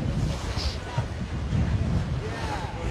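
Wind buffets the microphone and ocean waves wash around a catamaran sailing off Waikiki, a rough, continuous rumble with gusty swells, no clear speech.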